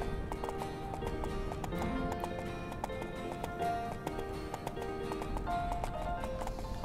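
Horses galloping in the Horse Life video game, a fast steady rhythm of hoofbeats against ambient game sound, moderately loud and continuous.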